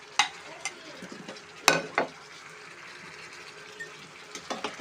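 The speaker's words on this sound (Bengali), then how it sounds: "তিল পরে তো এইভাবে ফুটে গেছে। এর ভিতরে আমরা ফ্রাই করা চিকেন উইংসগুলো দিয়ে দেবো।" Fried chicken wings are stirred into sesame seeds sizzling in a pan. A soft, constant fry hiss runs under sharp scraping and clattering stirs, with a few stronger strokes in the middle and more near the end.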